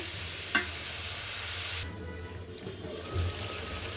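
Potatoes and meat sizzle in a pan of curry as they are stir-fried, a loud steady hiss with a clank of the spoon near the start, then the sizzle drops to a quieter bubbling.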